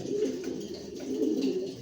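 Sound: pair of grizzle pigeons

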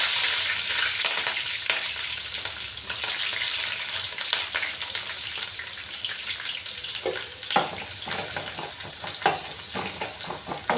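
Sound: onion and chilli frying in a pan for chicken curry

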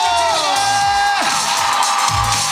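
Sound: concert audience applause and cheering

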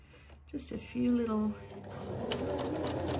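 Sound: sewing machine stitching fabric scraps

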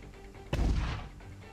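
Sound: mortar fire in Cepheus Protocol video game

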